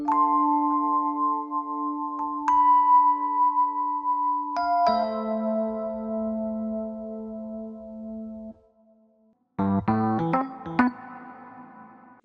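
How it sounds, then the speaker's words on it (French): A chime sound effect sounds as a transition in a hip-hop beat built from a soul sample. A cluster of bright, ringing struck tones enters near the end, following long sustained melodic notes. "On a aussi quelques effets sonores pour aider aux transitions, comme ici on a des carillons."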